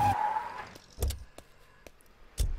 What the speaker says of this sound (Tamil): உன் இஷ்டத்துக்கு நடு ரோட்ல வண்டி நிறுத்துறியா?